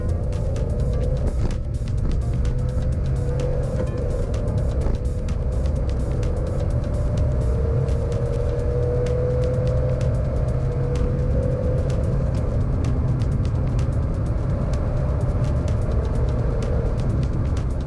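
A 2008 VW Polo 1.2-litre engine drones steadily from inside the cabin during a 30 to 70 mph sprint, pitch slowly climbing through gear changes as it accelerates, with road rumble underneath.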